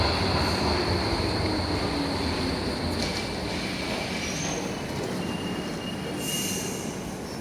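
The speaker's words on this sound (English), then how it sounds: "The terminating DLR train arrives into platform 10." A terminating DLR train pulls into platform 10 at Bank station in London, its wheels squealing loudly and continuously against the rails as it slows, with no voices.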